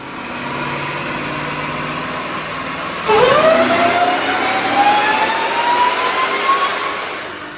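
A Hellcat-supercharged 5.7 HEMI engine running on E85 idles with a low rumble, then revs up sharply and holds a rising, whining pitch before easing off, with no talking.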